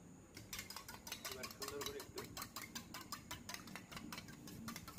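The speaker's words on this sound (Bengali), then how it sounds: "ডিমগুলোকে বাটির মধ্যে সুন্দর করে ফেটিয়ে নিতে হবে।" Eggs are whisked in a bowl, a fast, regular run of soft rattling taps that stays close and fairly quiet from start to finish.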